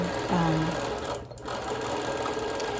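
A quilting machine stitches a design into a quilt, its rapid, steady mechanical chatter running continuously and close up, with brief tonal hums at the start.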